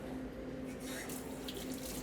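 Water running steadily from a kitchen tap onto a stainless steel sink, a continuous close rushing hiss with no breaks and faint background noise.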